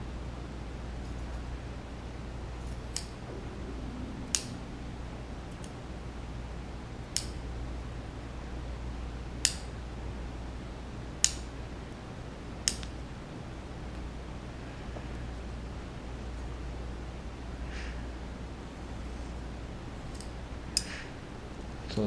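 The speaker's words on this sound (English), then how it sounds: "I just use the tip of my scissors" Scissor tips make about a dozen sharp, isolated snips while trimming a leather phone case, spaced irregularly over a quiet, steady room hum.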